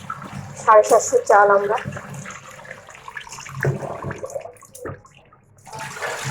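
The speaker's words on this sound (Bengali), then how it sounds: "মিক্স রাইস করার জন্য একটু চালটা ধুয়ে নেবো ভালো করে।" Rice being washed by hand in water for mixed rice, with wet swishing and splashing sounds in short bursts, mixed under someone speaking close by.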